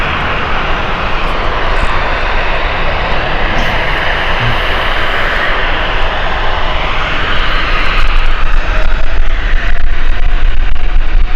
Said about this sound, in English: Okay, 777 going off to Antigua here. This is British Airways.